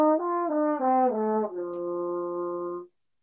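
A brass instrument slurs smoothly up and down through harmonics four to eight in a warm-up, stepping between clear sustained tones and settling on a long held note before stopping, played alone and close.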